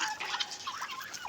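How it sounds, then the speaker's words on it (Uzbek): A mixed flock of chickens, guinea fowl and turkeys being fed grain on a farm gives off quick, overlapping gobbles and clucks at close range, with no talk. "Mana tovuqlarimizga don berish"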